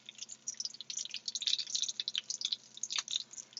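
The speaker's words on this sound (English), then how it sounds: "I'm just going to take this and pour it right over top of the beef" Melted butter is poured over resting beef, giving a steady close stream of crackly, patter-like drips that lasts throughout.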